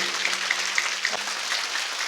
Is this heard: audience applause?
yes